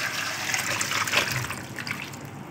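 Cold water draining from soaked raw potato pieces through a strainer into a sink, a steady close splashing gush that swells briefly midway, with no talking.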